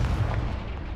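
A Confringo blasting spell fires in a Hogwarts video game, one deep booming burst that rumbles low and loud for about a second, with no talk.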